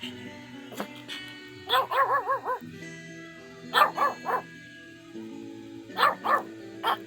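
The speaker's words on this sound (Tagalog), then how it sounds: "Ang hina naman ang tahol mo." A dog gives soft, thin yips and whimpering barks in three short clusters, fairly close, with brief pauses between the bursts.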